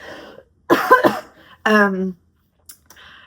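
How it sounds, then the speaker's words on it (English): Several harsh, close coughs in quick succession, with short silent gaps between them. "Oh gosh, coughing."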